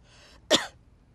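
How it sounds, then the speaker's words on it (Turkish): A single short, sharp cough sounds close by, following a brief stretch of faint noise. "sen günlerdir çok öksürüyorsun"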